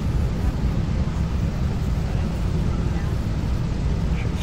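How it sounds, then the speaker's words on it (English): A PMDG DC-6B piston engine starting up in the X-Plane 11 flight simulator makes a dense, continuous low rumble at a constant loud level from start to finish. "Should start to hear the engine start here pretty quick."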